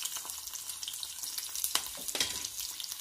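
Small onions fry in sesame oil in a kadai, a bright, dense crackling sizzle, close and steady, with a few louder spits and no talking.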